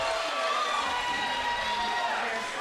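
Crowd cheering and roaring at a 2017 junior roller derby championship bout, a loud continuous wash of voices with an excited commentator talking over it.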